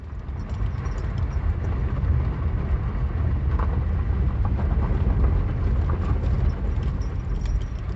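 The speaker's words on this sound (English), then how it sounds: "just watch the train gently roll by" A train rolls steadily by in the desert along Route 66 near Siberia, California, giving a continuous rumbling clatter with faint rhythmic wheel clicks that stays at an even, moderately loud level throughout, with no voices.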